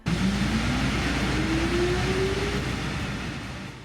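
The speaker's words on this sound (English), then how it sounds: "one of my favorite parts of riding these vehicles was the sounds of the motors." Electric traction motors of a Gillig trolleybus with a Kiepe electrical system, a steady loud whine rising slowly in pitch over a constant rumbling hum inside the vehicle as it accelerates.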